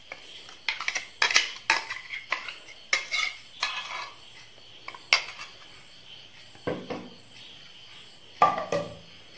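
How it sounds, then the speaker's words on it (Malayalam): Green hariyali marinade is mixed into chicken pieces in a dish, with irregular wet scraping and clinking strokes of a utensil against the bowl, close and fairly quiet, separated by short pauses. "നമുക്ക് നന്നായിട്ട് മിക്സ് ചെയ്ത് കൊടുക്കാം ചിക്കനിലോട്ട്"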